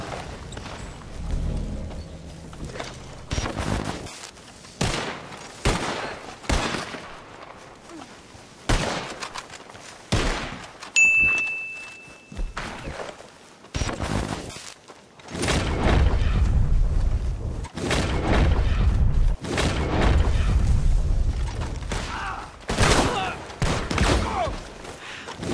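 Explosive-ammo gunfire in a Red Dead Online posse fight, a string of loud booming shots and blasts scattered irregularly across the span, with heavier rumbling volleys in the second half.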